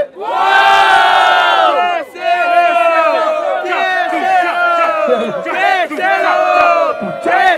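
Crowd at a 2017 freestyle rap battle semifinal in São Gonçalo, Brazil, roars with loud, sustained cheering and shouting, rising in repeated surges of massed voices with brief dips between them.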